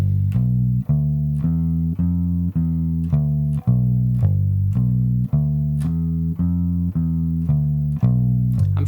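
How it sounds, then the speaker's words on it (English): A bass guitar plays a 12-bar blues walking line, plucking one deep note after another in a steady even rhythm, clear and up close with nothing else. "that is the sound of a walking bass line from a 12-bar blues"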